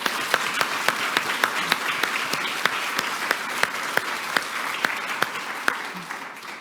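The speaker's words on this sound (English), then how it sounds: "let's give them some applause and thank them" Steady audience applause at a prize semifinalist announcement, dense clapping from a crowd with a few sharp nearby claps standing out, fairly loud and without talk.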